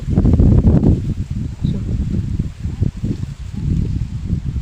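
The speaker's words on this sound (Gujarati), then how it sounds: "કેટલો પવન નીકળો અમારે નાળિયેર પાંદે ભાંગી ગયા" Gusty wind buffets and rustles through coconut palm fronds in surges, loud and close with blustery rumble.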